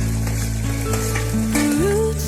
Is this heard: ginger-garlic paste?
yes